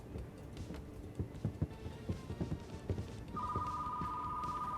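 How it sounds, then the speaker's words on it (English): A telephone rings in the Retro Rewind video game, a steady electronic ringing tone that starts partway through and holds, after a run of clattering game sounds. "And there's the phone."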